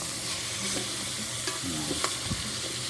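Garlic, onion and ginger sauté in a pan for adobo, giving a dense, continuous sizzle broken by brief scraping strokes of a stirring spoon, close and fairly loud with no speech.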